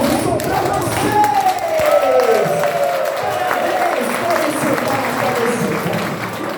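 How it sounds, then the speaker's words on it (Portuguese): An audience at an education seminar honoring Teachers' Day claps steadily and densely for the teachers, a sustained wash of applause from a large room with voices and whoops mixed in. "Esses aplausos são para vocês."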